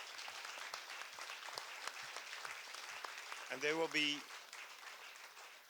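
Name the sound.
applause for the translators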